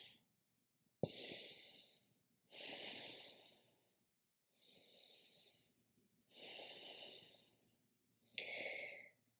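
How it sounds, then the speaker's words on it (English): Heavy breathing after yoga twists, five slow deep breaths in a quiet room, each a soft airy rush with a gap between, close and alone. "Just listen to your breathing,"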